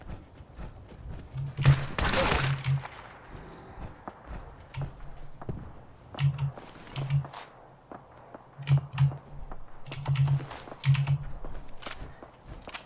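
Bursts of rifle gunfire in Fallout 4, short rapid volleys repeating every couple of seconds with a louder blast early on, no talking over them.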